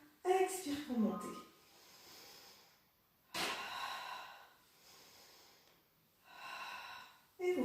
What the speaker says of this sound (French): Inspire pour descendre, expire pour monter.